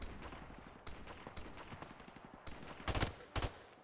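M16 three-round burst gunfire in the video game Modern Warfare Remastered: rapid, fairly faint shots rattle through a busy game soundscape, then two distinct, louder bursts land close together near the end.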